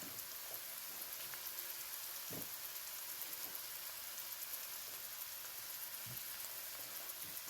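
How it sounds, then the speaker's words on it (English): A pot of callaloo with saltfish and okra simmers on the stove, giving a steady soft bubbling and sizzling hiss with occasional small pops throughout, close and continuous with no voices. "And then I'll leave it to simmer for a few minutes."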